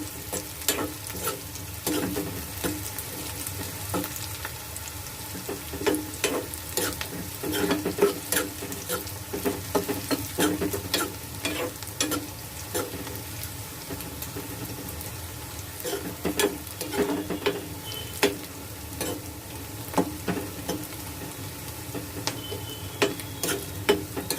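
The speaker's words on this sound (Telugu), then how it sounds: "గోల్డెన్ కలర్ వచ్చేదాకా కొంచెం వేపండి" Onions and green chillies sizzle steadily while frying until golden for a bitter gourd curry, with frequent spoon scrapes and clicks against the pan at an irregular rhythm, close and continuous.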